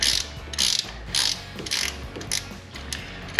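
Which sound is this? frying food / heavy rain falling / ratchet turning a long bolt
ratchet turning a long bolt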